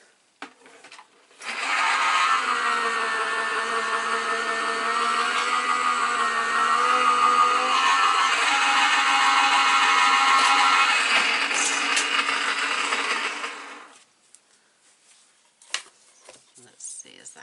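An electric die-cutting machine runs cardstock through to cut several small shapes at once, giving a steady, loud mechanical whir that holds for about twelve seconds before stopping, with faint handling sounds after.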